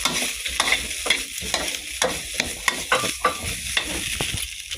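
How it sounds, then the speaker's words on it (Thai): Red curry paste stir-fried in a pan for a Korat-style curry, a close, steady sizzle broken by rhythmic scraping strokes of a spatula against the metal, with no talking. "ผัดให้หอมนะครับ"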